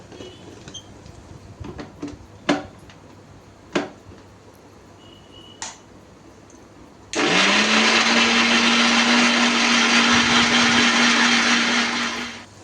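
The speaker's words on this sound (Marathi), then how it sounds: "ह्याची फाईन पेस्ट करून घ्यायची आहे मिक्सरला लावून" A mixer grinder blends boiled onion and cashews with a little water into a fine paste for kaju masala. A few faint kitchen clicks come first, then the motor roars loud and steady for about five seconds before cutting off.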